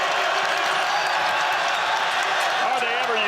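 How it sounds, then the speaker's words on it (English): A packed basketball arena crowd at a Rider versus Virginia ACC men's game roars in a continuous, loud wash of cheering, with a commentator talking over it. "Crowd's loving it."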